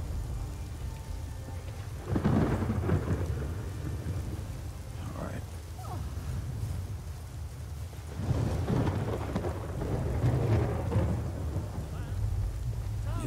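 Steady rain pours in the video game Skyrim while deep thunder rumbles roll in twice, swelling loud then easing, over the constant hiss of the downpour.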